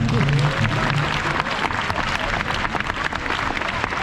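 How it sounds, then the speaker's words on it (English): Applause breaks out from the audience at a football club's end-of-season presentation day, a moderately loud crowd clapping continuously with some murmuring and voices mixed in. "Let's have a round of applause, please."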